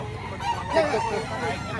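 Roosters and hens at a chicken market, clucks and crowing calls mingled with a crowd murmur and nearby voices talking.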